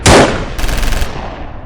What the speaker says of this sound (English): they were pushed back by withering and disciplined German machine gun and rifle fire